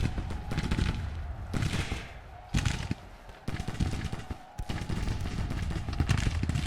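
Musket volleys and cannon fire from a Civil War battle in Grand Tactician crackle in dense bursts with heavy booming thuds, loud and continuous, swelling and dropping in waves.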